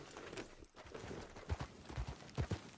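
Horse hooves clip-clop in Red Dead Redemption 2, a steady run of close, thudding hoofbeats over soft outdoor ambience, growing stronger and more distinct toward the end.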